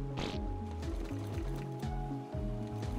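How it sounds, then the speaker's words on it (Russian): Water sloshes and gurgles in the video game ARK Survival Evolved, a steady liquid churn with layered game music tones underneath and no talking. "Вода."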